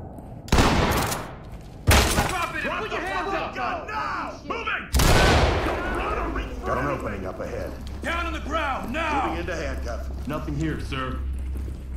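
Shotgun blasts and a flashbang in the video game Ready or Not, three sharp loud bangs spread across the stretch, with players talking over the gunfire between them.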